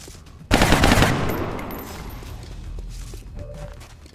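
Gunfire in the strategy video game XCOM Long War: a sudden loud burst of rapid shots that rings out and decays into a long fading tail.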